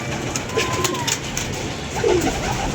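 Pigeons kept as a hobby coo softly against steady background noise, with a brief throaty coo late in the stretch.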